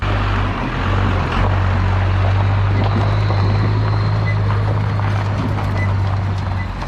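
A Yamaha Rhino 660 UTV rides along with a steady, droning engine hum held close and loud, mixed with broad rushing wind and road noise over several seconds.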